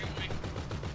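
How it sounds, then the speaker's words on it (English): Rapid gunfire from an enemy player in a first-person shooter video game, a quick burst of repeated shots at moderate volume, with a voice talking over it. "he's shooting me"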